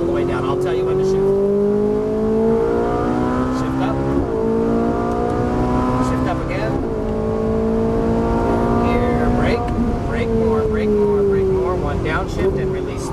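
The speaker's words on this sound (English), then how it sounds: "So just let the car roll at this speed here and accelerate all the way down" A Ferrari 458 engine revs loudly and climbs in pitch through several rising pulls, close and dominant throughout, with a voice faintly underneath.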